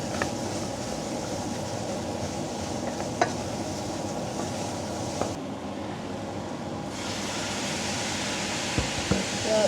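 Food sizzles in a heated frying pan while a dessert is cooked, a steady broadband hiss that briefly drops away midway, with a few faint clinks of a spoon.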